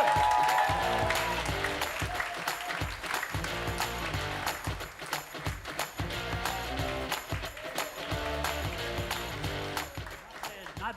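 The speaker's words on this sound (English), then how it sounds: "How about a big round of applause for Cliff Hornsby?" A comedy club crowd at a class showcase claps for a stand-up comedian taking the stage, dense close applause that gradually thins, with voices talking over it.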